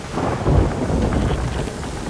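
Heavy thunderstorm in the pirate game Sea of Thieves, a loud continuous rumble of thunder mixed with rain and wind, dense and close throughout.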